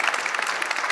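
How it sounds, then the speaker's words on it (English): An audience at a conference panel on HR leadership and sustainable transformation claps in a brief, dense burst of applause, steady and fairly close. "Round of applause is always good."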